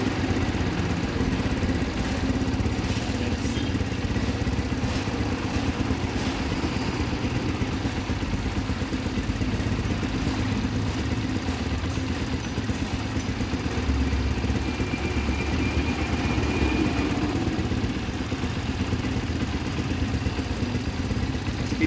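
A Rusi Flash150X motorcycle engine idles while running hot, a steady close mechanical drone with light clatter held evenly throughout, no talk.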